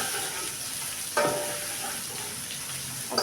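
Ginger-garlic paste fries with spices and onion in a pan for beef biryani, giving a soft steady sizzle with a brief clatter of stirring partway through.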